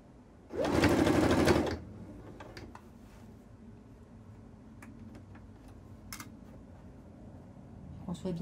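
A sewing machine stitching a summer top runs in one short, loud burst of about a second, followed by quiet handling and a soft voice.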